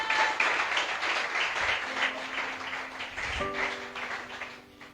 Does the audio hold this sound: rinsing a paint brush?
no